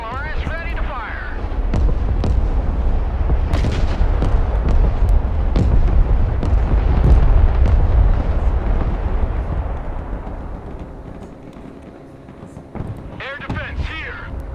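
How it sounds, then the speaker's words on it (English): MLRS rocket artillery launching in the war strategy game Broken Arrow, a sustained loud roaring rush of rockets that swells and fades over many seconds, with someone talking over it. "MLRS ready to fire!"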